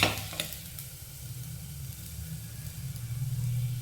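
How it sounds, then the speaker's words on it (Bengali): Spiced breakfast snack batter fries in hot oil in a pan, giving a soft, steady sizzle that stays fairly quiet and close, with a brief clatter at the start. "আর একইভাবে বাকি মিশ্রণ থেকে এই নাস্তাগুলো ভেজে নেব।"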